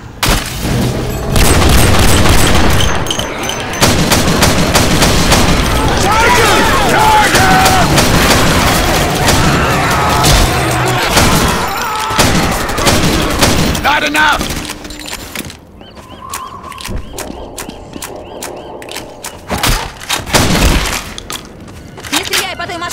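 Grenade blasts and rapid gunfire in Left 4 Dead 2, loud and dense with booming explosions and crackling shots, dropping to sparser bursts of single shots near the end, with players talking over it.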